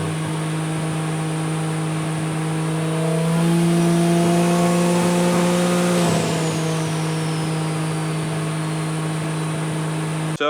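A big-turbo three-rotor Mazda RX-7 rotary engine runs under load on a dyno during break-in at 2,000–3,000 RPM. It makes a loud, close, steady droning hum that swells briefly midway before settling back to an even tone, with no talking.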